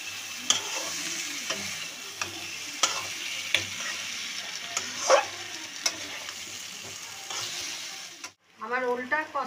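Boiled elephant foot yam is stirred and fried with potatoes in a pan. A constant sizzle runs under spatula scrapes that come about once a second, close and clear. The cooking stops near the end and a voice briefly speaks.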